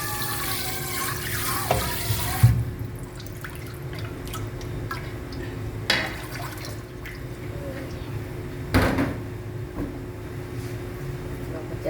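Water pours and splashes into a basin as boiled sago is rinsed, with bursts of running water and dripping over a low hum, while someone talks over it.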